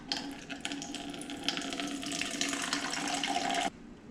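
Water pours steadily into a DIY CO2 generator bottle from a ZRDR kit, a continuous close splashing gush that runs for several seconds and then stops abruptly.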